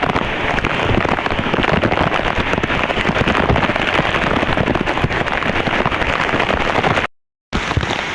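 Heavy, steady rain from a typhoon at the Port of Lucena, a dense continuous roar of drops on surfaces that holds at the same loud level, with a short dropout near the end.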